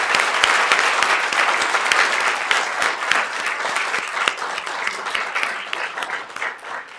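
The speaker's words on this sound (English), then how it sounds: "Let's give them all a round of applause." Sustained audience applause at a community Martin Luther King Jr. program honoring art contest finalists: many hands clapping steadily, fairly close and even, slowly tapering toward the end with no speech.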